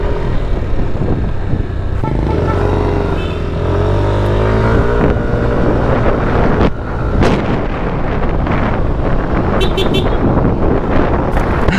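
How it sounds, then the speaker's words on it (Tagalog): A four-cylinder big bike engine revs hard nearby, rising in pitch alongside other passing motorcycle and scooter noise, with wind buffeting the microphone. "Guwapo talaga ng tunog ng 4-cylinder"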